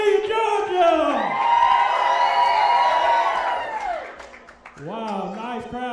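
A crowd at an indoor wrestling event at Landmark Arena in Cornelia, Georgia cheers and whoops loudly for several seconds before fading. A voice speaks over the noise, then cheering briefly swells again near the end.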